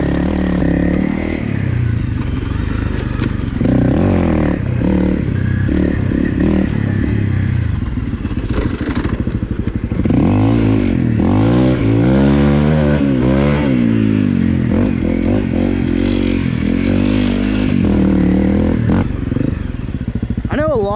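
A 2017 Honda CRF250L dual-sport motorcycle rides on overgrown dirt trails, its single-cylinder engine loud and close throughout, revving up and down with gear changes while brush and gravel clatter and scrape around it.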